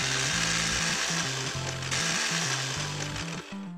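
An electric grinder coarsely grinds mildly roasted coriander and cumin seeds with a loud, continuous whirring roar whose pitch shifts in steps as the seeds break down.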